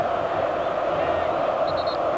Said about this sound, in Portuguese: A torcida do São Paulo faz festa nas arquibancadas, nas cadeiras.